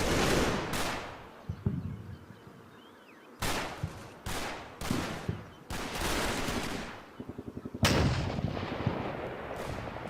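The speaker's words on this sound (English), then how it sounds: "At least the American rifles can put down some heavy fire too." Rifle gunfire in the WWII video game Combat Mission: Battle for Normandy, with loud sharp volleys and bursts of shots ringing out in clusters, separated by brief quieter gaps with fading echoes.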